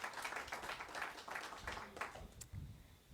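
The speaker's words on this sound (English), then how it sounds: "So a big round of applause for the Cottage Club." A small audience at an evening talk claps for a sponsor, a modest burst of close, uneven handclaps that thins out toward the end, followed by faint room noise and soft movement.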